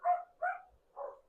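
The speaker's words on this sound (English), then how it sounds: "these dogs are making so much noise." Three loud, close dog barks in a row, the first two quick together and the third after a short pause, with no other sound between them.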